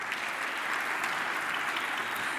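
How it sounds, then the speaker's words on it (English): An audience at a tech conference pitch session applauds the presenters, a steady dense wash of many hands clapping at moderate distance, sustained throughout without speech. "Let's give our presenters another round of applause."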